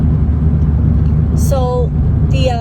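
A big red truck drives past near a hay farm, its low engine rumble steady under a person talking throughout.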